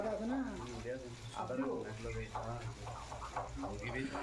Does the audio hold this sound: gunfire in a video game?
no